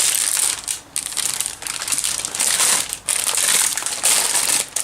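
Plastic packaging crinkles and crumples loudly and close up while Death Guard Conquest partwork magazines, issues 19 to 22, are unboxed, with steady rustling broken by brief pauses and no talking.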